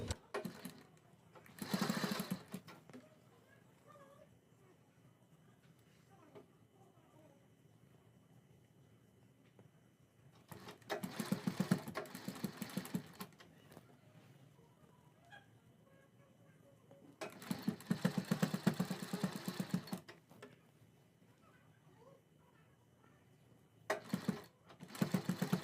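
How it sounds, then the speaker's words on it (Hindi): A sewing machine runs in three separate bursts of a few seconds each while stitching a triangle kurti neck, whirring steadily between quieter pauses. "अब हमें इस प्रकार से यहाँ पर ट्रायंगल रखना है और इसके ऊपर सिलाई लगा देनी है"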